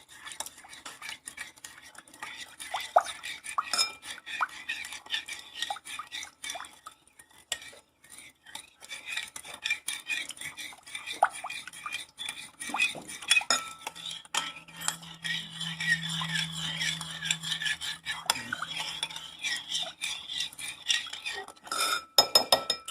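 Korean BBQ rib marinade being mixed in a bowl with a spoon or whisk, light repeated scraping and clinking of utensil against the bowl, close and moderately quiet, with a brief low hum partway through and no talking.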